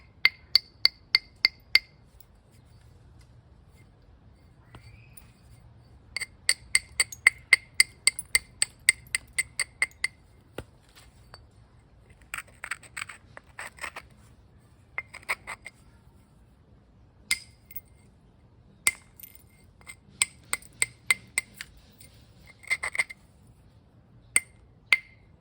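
Stone is struck repeatedly against basalt to knap a knife, knocking off flakes. Sharp, ringing clinks come in quick clusters separated by short pauses, close up against a quiet background.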